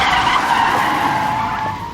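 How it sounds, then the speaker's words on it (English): A car in a horror film brakes hard, its tyres skidding in one loud, sustained screech that holds close and steady for about two seconds, then trails off slightly at the end. "Masashi slams on the anchors when he feels the car hit something."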